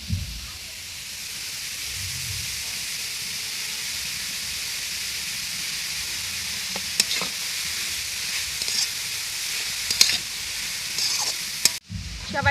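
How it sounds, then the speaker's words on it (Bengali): Chopped carrot and shredded cabbage stir-fry in a pan for vegetable momo filling with a steady, soft sizzle and hiss, broken by occasional sharp clinks and scrapes of a spatula. "গাজরটা হালকা একটু ভাজা হলে দিয়ে দেব বাঁধাকপি কুচি।"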